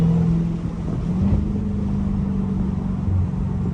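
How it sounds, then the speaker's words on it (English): A Dodge Hellcat holds a steady, loud low engine drone that swells slightly midway, a continuous rumble with no tire squeal clearly standing out and no talking. "Spinning ain't winning. We gotta get out of these tires."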